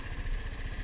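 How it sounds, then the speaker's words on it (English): Motorcycle engine idling with a low, steady rumble and a slight dip in revs, close and continuous with no other sounds. "You hear the RPMs dip a little bit."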